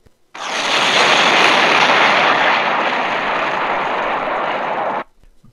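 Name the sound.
explosion destroying church bell tower in Batman: Arkham City video game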